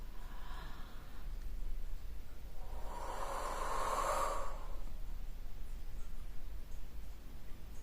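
A single long breath, in or out, during guided meditation, drawn slowly and close to the mic over a low steady background hum, with no one speaking.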